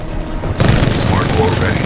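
Heavy Titan weapon fire in Titanfall 2: a booming blast hits at once and rolls into sustained, loud mechanical combat noise, with a voice talking over it.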